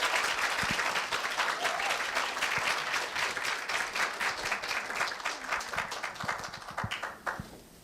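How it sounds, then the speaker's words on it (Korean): A school audience at the 2017 Korea University KTN middle-school speech festival greets the student hosts with sustained, dense applause, loud and continuous for about seven seconds before tapering off at the end. "큰 박수로 맞아주십시오"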